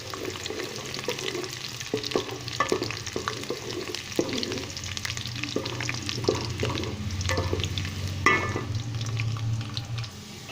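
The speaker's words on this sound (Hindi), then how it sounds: "इसमें पहले मैं प्याज शामिल करता हूँ। इसको हल्का सुनहरा मैं कर लूँगा।" Onions frying in oil in a pan for dal chawal, a steady close sizzle broken by repeated sharp clinks and scrapes of a spoon stirring against the metal, with no voices.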